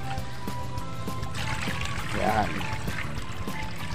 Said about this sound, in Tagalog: lalagyan muna natin to ng tubig. So bagong tubig yan.